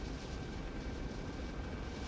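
A helicopter in the video game Arma 3 flies forward at speed, giving a steady, loud rotor and engine roar that holds evenly throughout with no pauses.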